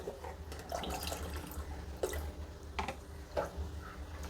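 Water splashes and drips into thick neer dosa batter made with bottle gourd and cucumber, with a few distinct plopping sounds over a low steady background hum.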